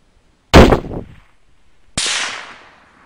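Two sharp, loud rifle reports in a long-range shooting setting, each followed by a fading rumble across open ground, the second softer than the first, with nothing else around them.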